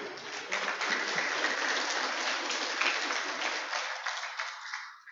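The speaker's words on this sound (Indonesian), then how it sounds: "Mari kita beri tepuk tangan yang meriah untuk pemateri kita sekali lagi." Audience applause for a presenter at a campus orientation session on the IAI Al-Azis library, a dense steady wash of clapping for about five seconds that fades out at the end.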